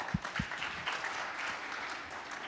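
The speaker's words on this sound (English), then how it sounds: "Big round of applause." An audience at an award ceremony breaks into applause, a dense, sustained clapping from a crowd with a couple of sharp thumps at the start.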